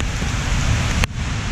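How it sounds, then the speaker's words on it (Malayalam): Heavy rain pouring steadily during a cycle ride in Kerala, heard from shelter under a teak tree: a dense, loud hiss with a brief dip near the end, with no talking. "നല്ല മഴയാ പെയ്യുന്നത്."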